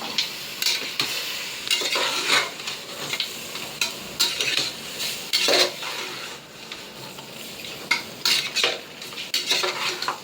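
Goat head curry being stirred in a pan, with repeated close scraping and clinking of a metal spoon against the pan over a steady sizzle, loud and continuous without talk.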